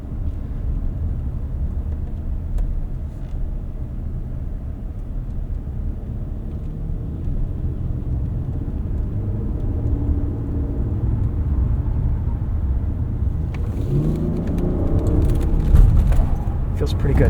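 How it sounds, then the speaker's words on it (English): A Lexus TX 550h+ plug-in hybrid in sport mode driving through roundabout corners, low steady road and engine rumble inside the cabin that swells slightly near the end, with a person talking over it. "Let's throw this car into a couple corners here around this roundabout, see how it feels."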